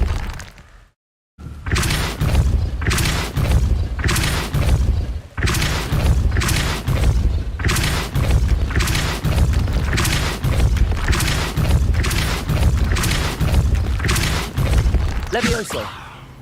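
Depulso spell impacts in Hogwarts Legacy hit as a rapid, regular series of loud booming thuds, each with a crunchy shattering edge, after a brief silent gap at the start.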